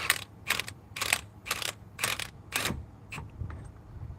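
A socket wrench snugs up a fastener with a run of quick ratcheting clicks, about seven short bursts in an even rhythm that trail off near the end, close and clear with no speech.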